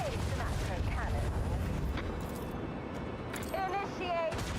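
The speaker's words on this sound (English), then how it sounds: "Engage the macro cannon." A macro cannon in the space combat of Warhammer 40k: Rogue Trader fires in booming bursts, heavy thuds and rolling blasts layered with game effects and a synthetic voice-like tone, loud and close.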